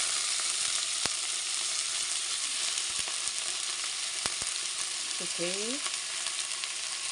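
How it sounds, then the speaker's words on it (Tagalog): Chicken frying in hot oil in a pan for tinola, a loud, steady, close sizzle throughout with a couple of faint clicks and a brief short voice near the end. "Para mapiprito siya."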